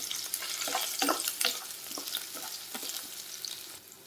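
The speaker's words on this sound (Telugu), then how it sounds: "ఈ పచ్చిమిరకాయ ఉల్లిపాయలు బాగా ఫ్రై చేసుకోవాలండి." Green chillies and onions fry in hot oil with a loud, close crackle and hiss, broken by scraping stirs and sputters that come and go over a steady sizzle.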